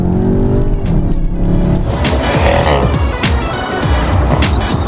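A Skoda Octavia RS in sport mode revs hard and loud, its engine note climbing under acceleration, with sharp pops and crackles from the exhaust and tires and road noise close by.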